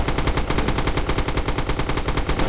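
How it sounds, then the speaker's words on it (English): Machine-gun fire in a video game: one sustained, rapid burst of evenly spaced shots, loud and harsh, with no pauses and no voices. "A bunch of MG fire coming down from Bob Lee, who's in a very vulnerable spot up there"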